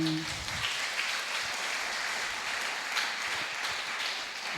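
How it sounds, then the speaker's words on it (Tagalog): A church congregation during a Sunday worship service applauds in a long, unbroken wash of clapping, fairly soft and distant, with a brief voice at the very start. "At mas malakas na palakpak po sa ating Panginoon."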